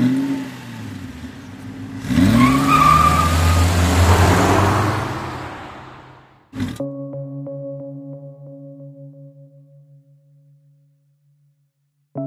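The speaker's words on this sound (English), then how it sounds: "This is the all-new Volkswagen Golf Alltrack, and it's the answer for those seeking to take their wagons to the dirt" A Volkswagen Golf Alltrack wagon passing: a rising engine and tire roar swells, then cuts off, followed by a sustained tonal hum that fades into silence.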